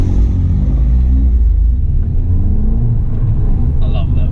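A Caterham 7 sports car rumbles and revs close by in traffic next to a Ford Fiesta ST, its engine noise steady and loud under conversation.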